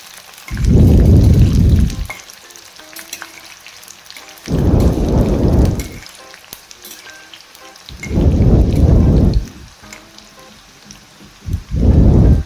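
Tomato-flavoured spicy shankarpali frying in hot oil over a low flame, stirred and turned with a spatula; loud bursts of bubbling sizzle rise and fall in four surges, with quieter crackle between them.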